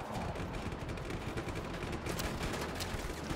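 Just Cause 3 gunfire crackles in dense, rapid bursts under a low rumble, loud and continuous across the short stretch.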